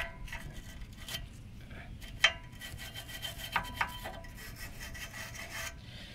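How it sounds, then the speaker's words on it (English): A brass wire brush scrubs rust from the rear shock mount hole of a 1999 Kia Sportage, giving close, steady rasping strokes with a few sharp metallic clicks and scrapes, no talking. "just clean some of the rust off of the out of the hole for the shock there"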